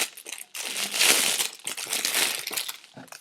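Plastic packaging around a massage magnet crinkles and crunches loudly up close as it is pulled open, in dense bursts with brief pauses.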